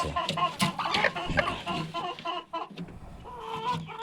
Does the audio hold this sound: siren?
no